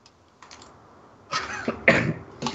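A few short, sharp coughs toward the end after a quiet start with faint clicks, close to the listener.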